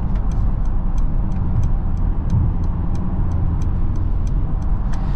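Steady engine and road drone from a 2023 Mercedes-Benz GLE 350 with a 2.0-litre turbocharged inline-four making 255 hp, heard from inside the SUV while driving, with faint regular ticks above the continuous hum.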